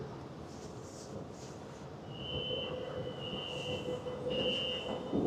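A Harbin metro train in winter rumbles along with a low, steady roar that slowly swells, while a high, thin squeal from the wheels or brakes rings out in drawn-out stretches midway through.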